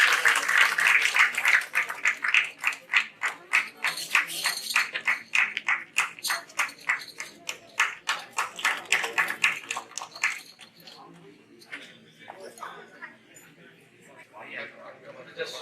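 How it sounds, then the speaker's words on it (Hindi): An audience at a golden jubilee ceremony in Patna claps for an honoree, starting with rhythmic, fairly close claps that thin out and fade after about ten seconds, ending in scattered taps and quiet murmur. "डॉक्टर हिमांशु के लिए तालियां बजाइए।"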